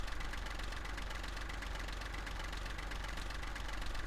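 In Farming Simulator 15, a tractor engine idles with a steady low chugging knock, continuous and even, faint but unbroken, with no voices.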